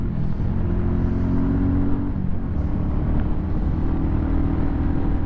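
Royal Enfield Classic 350 motorcycle riding on the road, its 349cc single-cylinder engine a steady low rumble with wind noise, continuous and close throughout.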